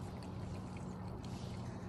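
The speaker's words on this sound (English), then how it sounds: "you just want the water to run down the steel" Water running down steel over rocks, a steady close trickling and splashing rush that continues evenly throughout with no voices.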